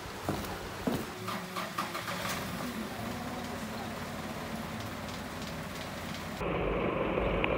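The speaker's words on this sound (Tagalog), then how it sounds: "lumalakas ang ulan" Steady rain hiss with scattered drops and some low background rumble, growing denser and louder toward the end.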